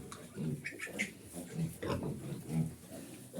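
Piglets in a straw-bedded pigsty grunt and squeal in short bursts, fairly faint and close, scattered over a few seconds near a water trough.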